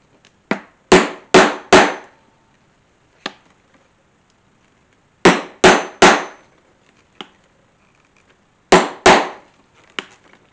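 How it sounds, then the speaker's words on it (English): Sharp, loud hammer strikes drive a 1/8 inch hole punch through a leather guitar strap, falling in separated groups of three or four blows with quiet pauses between. "so I could go ahead and punch those with my 1/8 inch punch"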